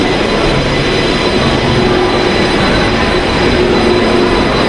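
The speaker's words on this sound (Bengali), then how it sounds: "মেট্রো স্টেশন যাওয়ার জন্য এই ট্রেন আসছে।" A metro train on a Kolkata station platform makes a loud, steady rolling rumble and roar that fills the whole stretch, with a faint high whine riding over it.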